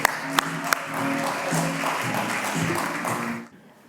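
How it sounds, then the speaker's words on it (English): Audience applause in an auditorium, a steady wash of many hands clapping for about three seconds after a few sharp claps at the start, then fading out quickly. "Round of applause for Forrest"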